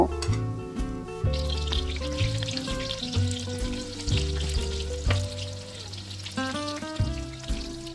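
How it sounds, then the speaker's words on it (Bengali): Spring onion fritters frying in hot oil give a steady, close bubbling sizzle that runs under prominent melodic background music for the whole stretch. "আর একইভাবে আমি বাকি সবগুলো ভেলাও ভেজে নেব।"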